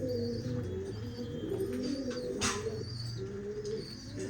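A Ferozpuri pigeon coos in soft, repeated low throaty calls, fairly close, with faint chirps and light rustling from other birds around it.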